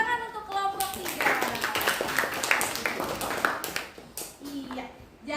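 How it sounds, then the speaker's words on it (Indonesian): A class applauds a student group in an Indonesian classroom, a steady patter of clapping hands running through the clip with children's voices mixed in and a teacher speaking near the end. "tepuk tangan untuk kelompok 3"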